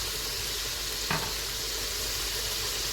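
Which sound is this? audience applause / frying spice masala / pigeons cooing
frying spice masala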